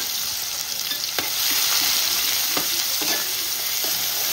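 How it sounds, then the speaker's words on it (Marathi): Ginger, garlic and onion fry in hot oil for chicken biryani, giving a steady loud close sizzle with a few sharp stirring scrapes and clicks throughout. "तेल गरम झाले, आपण अद्रक लसूण टाकूया आणि हा कांदा टाकूया"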